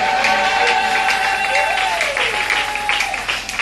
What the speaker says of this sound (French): Est-ce qu'on peut acclamer pour la parole et ce soir?